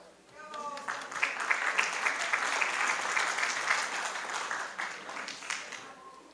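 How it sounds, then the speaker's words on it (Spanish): An audience at a university alumni gathering bursts into sustained applause for an introduced engineer, swelling quickly, holding steady for several seconds, then fading, with a voice briefly heard at the start. "Fuerte el aplauso para él."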